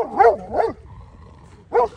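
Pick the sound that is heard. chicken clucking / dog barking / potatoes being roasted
dog barking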